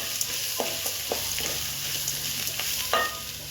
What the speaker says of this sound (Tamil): தேங்காயும் சேர்த்துக்கலாம். நல்லா வதக்கலாம்.